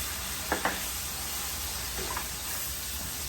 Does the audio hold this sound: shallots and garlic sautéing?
yes